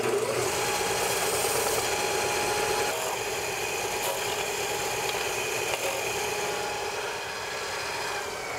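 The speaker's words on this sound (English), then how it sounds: "So before we use the type, we have to sand it, get the ink out of there" Wooden printing type being sanded to strip out old ink, a continuous close scratchy rasping that holds steady throughout with slight shifts in texture, no talking.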